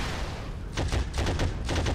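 Rapid bursts of gunfire from the World War II shooter Heroes and Generals, steady loud background firing with several sharp close shots in quick succession over the second half, no talking.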